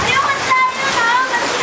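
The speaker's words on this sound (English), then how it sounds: "just a little rainstorm." Steady rain splashes and patters outdoors in a short, loud burst, with a voice speaking over the wash of falling water.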